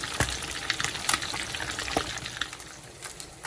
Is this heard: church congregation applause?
no